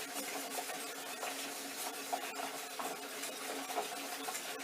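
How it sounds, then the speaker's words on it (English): A whisk works through peppercorn sauce in a pan, giving a steady, continuous scraping and rubbing that runs alone and fairly quietly throughout. "whisk it for a bit, let it sit, then whisk it again."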